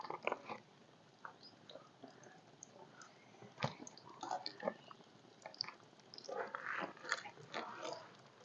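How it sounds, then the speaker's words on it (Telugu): Someone bites into hot, crispy chilli bajji fritters, with faint, close crunches and chewing clicks repeating irregularly over several seconds against a quiet background. "మంచిగా కరకరలు ఆడుతున్నాయి, క్రిస్పీగా మంచిగా."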